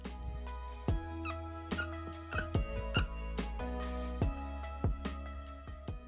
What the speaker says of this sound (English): he's playing with squeaky toys again